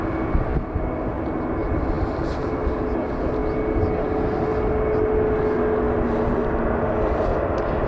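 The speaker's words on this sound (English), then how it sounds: "We got the 777." Etihad Airways Boeing 777 airliner at Manchester Airport, heard as a steady, broad jet-engine roar that holds at an even loudness throughout with no talking.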